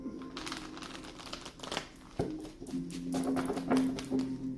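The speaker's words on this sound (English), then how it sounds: "One last shuffle." Cards riffle and slap together in quick, crisp bursts, close and fairly quiet, with a few soft taps between shuffles.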